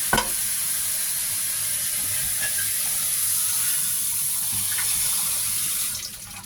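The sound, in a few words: rinsing sago in water for a durian dessert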